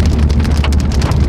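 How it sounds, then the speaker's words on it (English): Steady rain drums on a lowered BMW M4 in 37-degree weather, a dense, continuous patter of drops on the car's surface with some wind noise, close and fairly loud throughout. "37 degrees and raining."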